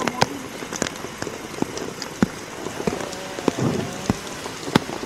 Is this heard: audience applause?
no